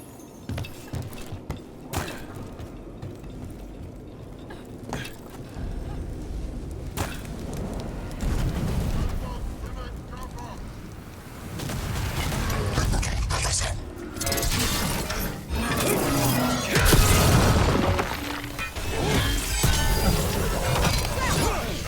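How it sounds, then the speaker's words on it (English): Cannon fire and explosions in the Dragon Age: The Veilguard video game, a run of booming blasts, crashes and shattering debris that grow denser and louder toward the end, with mechanical clatter between them. "Cannon fire! Get clear!"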